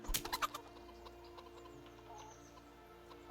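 Chickens in the medieval video game Kingdom Come: Deliverance give a few quick, faint clucks in a short burst at the start, then a quiet background hum with a soft cluck or two later.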